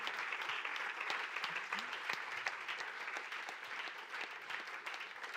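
An audience applauds at the close of a talk at a Speck&Tech tech meetup, with steady, fairly faint clapping that carries on without a break and no voices over it.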